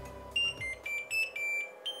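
A 3D printer switched on for the first time plays a quick startup melody of short, clear electronic beeps at different pitches, close and fairly soft, lasting about two seconds.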